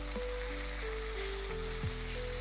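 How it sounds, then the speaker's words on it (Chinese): Carrot and cauliflower stir-fry in a wok with water and milk, producing a steady, close sizzle under background music with sustained tones. "倒入红萝卜和菜花，翻拌，再倒入2勺水，加半杯牛奶翻炒。"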